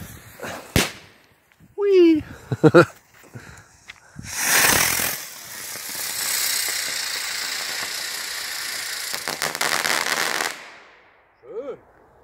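An Xplode Crackling Bird firework bursts into a dense, loud crackle lasting several seconds after some short pops and a brief shout; a voice chimes in again as it fades.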